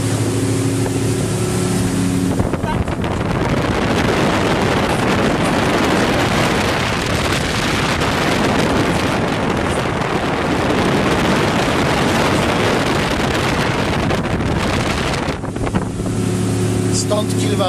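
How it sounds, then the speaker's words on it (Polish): A boat runs on a lake with its bow raised, and heavy wind buffets the microphone in a loud, continuous roar for most of the stretch, with calmer tonal sound at the start and end. "Płyniemy z dziobem do góry."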